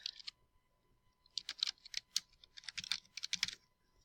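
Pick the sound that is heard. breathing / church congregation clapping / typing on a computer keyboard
typing on a computer keyboard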